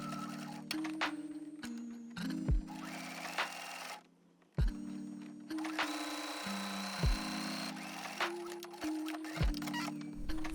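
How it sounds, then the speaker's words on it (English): A sewing machine topstitching bias tape along a slit in a tulip top bodice, steady close whirring stitch runs with short pauses and a clunk partway through, nothing else heard. "Top stitch 1mm from the edge, stitching all the way to the other end to fully enclose the slit with the bias tape"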